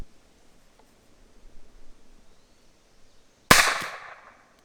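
A cheap pistol-style golf ball launcher fires a golf ball with one sharp, loud bang after a few seconds of faint quiet handling, and the blast rings briefly before fading.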